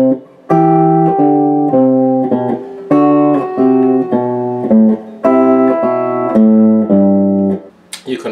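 Clean electric guitar tones from a Gibson Melody Maker: a sustained high voice rings over a bass line that steps downward, in repeated phrases with brief pauses, played alone.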